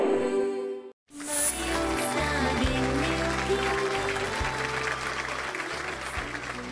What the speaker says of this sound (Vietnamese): Rồi chúc mừng gia đình một tràng pháo tay